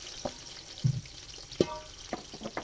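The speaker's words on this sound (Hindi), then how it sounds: "हल्का सा भूनेंगे गरम मसाले को" Whole garam masala frying in hot ghee gives a soft, steady sizzle, broken by a few brief spoon scrapes and clinks against the pan, close and fairly quiet.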